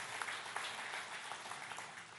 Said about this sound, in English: Can we have a round of applause for Baba Ramdev?